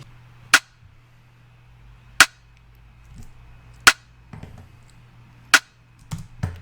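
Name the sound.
rim shot drum sound in a beat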